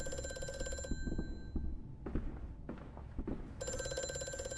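A telephone rings in the horror game Amnesia: A Machine for Pigs. A sustained bell ring plays, breaks off into a stretch of low rumbling and scattered knocks, then rings again loudly.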